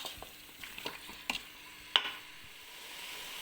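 Fresh peas frying and being stirred in a paella pan, with a soft steady sizzle under scattered scraping clicks of a utensil, and no talking.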